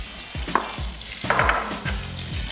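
Fresh tomatoes hit a hot pan and sizzle, with a spoon stirring and scraping against the pan in several short knocks over a steady frying hiss, close up and without talk.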